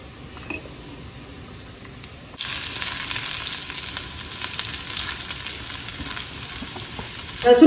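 Garlic frying in a pan for dal khichdi: quiet crackle at first, then a sudden steady, bright sizzle close by that continues to the end.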